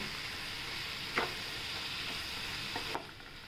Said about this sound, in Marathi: बटाटे टाकूया बटाणे पण टाकूया परतून घेऊया आपण